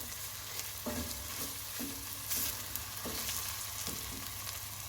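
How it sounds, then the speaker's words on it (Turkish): Sautéing in a pan as the base for a Turkish green lentil stew: a steady close sizzle with scraping stirs roughly every second, and no voices. "Parçanın kokusu çıkıncaya kadar kavuralım."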